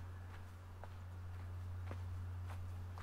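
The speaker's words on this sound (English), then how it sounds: "Can hear the footsteps of the mother Karen, obviously, while we're walking." Soft footsteps of a walking character in the horror game Through the Woods, a handful of faint, irregular steps over a steady low droning ambience, with no talk.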